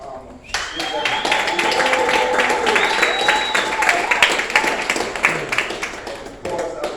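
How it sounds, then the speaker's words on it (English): A crowd applauds the owners of a neighborhood establishment in Newark, New Jersey, close and loud clapping with scattered cheers and voices mixed in, fading toward the end. "let's give a round of applause to the owners of this beautiful establishment in our neighborhood, Mr. and Mrs. Palmer."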